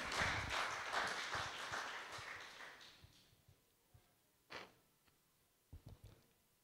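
A church congregation claps together during worship, a loud dense round of applause that fades away, followed by a few scattered, isolated claps.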